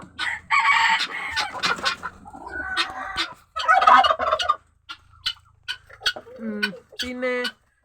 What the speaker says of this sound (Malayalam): ഇതാട്ടോ നമ്മുടെ കരിങ്കോഴിപ്പെണ്ണ്.